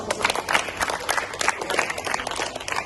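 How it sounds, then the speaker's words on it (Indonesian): Applause breaks out at a skills training session, with dense, bright clapping from a group continuing throughout. "Tepuk tangan dulu."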